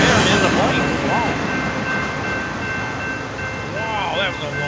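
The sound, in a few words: long NS 121 freight train passing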